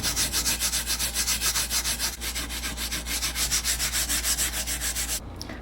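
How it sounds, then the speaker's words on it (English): Steady back-and-forth sanding of a wooden boat oar with sandpaper, a rhythmic close rubbing that continues in even strokes, then stops near the end. "So first, sand this."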